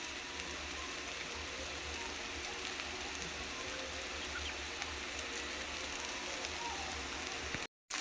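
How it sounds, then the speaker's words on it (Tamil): Chickpea sundal sautéing with onion and chili in a pan for a Vinayaka Chaturthi dish, giving a dense, even, close hiss and crackle that holds steady throughout before cutting out briefly near the end. "சுண்டல் ஆட் பண்ணியாச்சு. நல்லா வதக்கிக்கலாம்."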